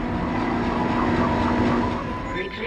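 A tram moving in the video game Dead Space, a steady mechanical rolling rumble with a sustained hum and faint rhythmic clatter, fairly close and continuous throughout.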